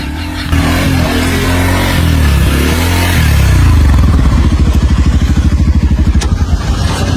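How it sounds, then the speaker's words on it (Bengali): A motorcycle rides over a mobile phone lying on the road, its engine loud and close as it revs, with a throbbing, pulsing idle as it moves off. "বাইক চলে গেল এই ফোনের উপর দিয়ে।"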